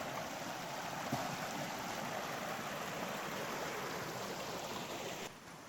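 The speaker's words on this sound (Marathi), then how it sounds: "नदी नाही, हा व्हाळ आहे" A small flowing stream in rural Konkan, steady close water rush and babble that holds evenly and drops slightly near the end.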